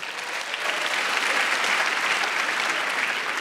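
A studio audience at a roast comedy show claps together in steady, dense applause that holds loud and even for a few seconds, with no one talking over it.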